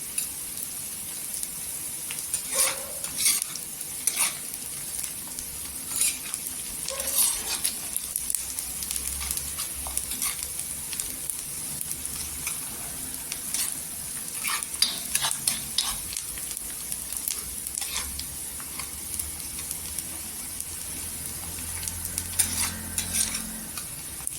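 Onions sizzle steadily in hot oil while a utensil scrapes and stirs the pan at irregular intervals, close and continuous.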